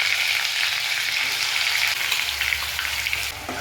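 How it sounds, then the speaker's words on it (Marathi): Onion-tomato puree fries in oil for a paneer butter masala, giving a dense, continuous, close sizzle with faint stirring beneath and no one talking. "तेलात प्युरी परतून घ्यायची व्यवस्थित."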